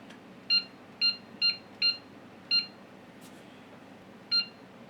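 An Accenta ADE Gen 4 burglar alarm keypad gives six short, sharp electronic beeps at uneven intervals as buttons are pressed to enter engineering mode, each beep clear against a quiet background hum.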